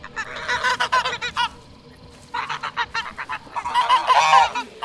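Goose-like bird calls, pitched down for a darker, more menacing tone in Hunt: Showdown sound design, come in two clustered bursts of rapid honking separated by a brief quiet gap, loud and close.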